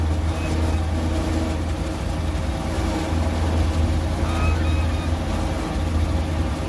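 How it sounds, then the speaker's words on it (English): Parks Department truck approaching along a street, a steady low engine rumble that holds close and loud throughout, with broadband road noise above it and no talk. "Well, now I got a Parks Department truck coming my way."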